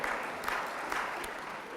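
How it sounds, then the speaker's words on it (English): Audience applause at a lecture series event, a steady, fairly faint wash of many hands clapping with no voices over it. "I like the applause."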